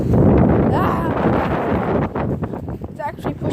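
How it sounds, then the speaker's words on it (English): Cold wind blows outdoors near a bridge and playground, roaring steadily across the microphone in a loud, close buffeting rush while people talk over it. "It's cold and windy."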